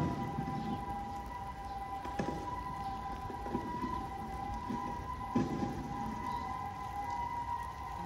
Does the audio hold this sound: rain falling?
yes